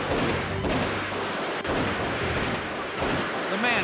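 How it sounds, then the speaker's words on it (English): Gunfire tears through a room during a prison assault: a dense, loud volley of shots with hard, sharp cracks, a momentary break near the middle, then more firing. "Bullets tear through the room."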